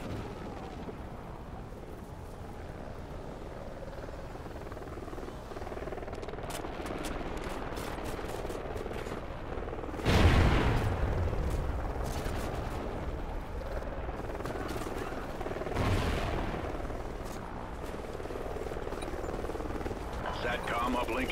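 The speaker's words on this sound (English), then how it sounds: "Enemy helo scout inbound." Enemy scout helicopter rotor thrum runs beneath Call of Duty Ghosts multiplayer combat, with bursts of distant gunfire and two heavier explosive impacts breaking through the steady battlefield din.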